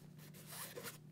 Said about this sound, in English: 8-inch zip-to-pants attachment.